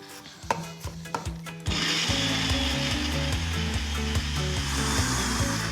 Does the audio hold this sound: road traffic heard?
no